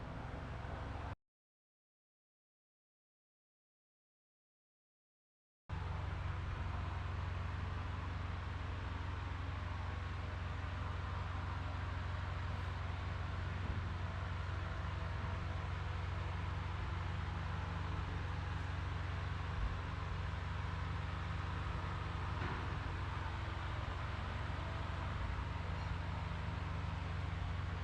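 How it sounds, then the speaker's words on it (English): An electric fan runs in the background of a warm garage, producing a constant, steady broadband whoosh with a low hum, continuous and unchanging apart from a few seconds of dropout near the start. "we got the fan running in the background."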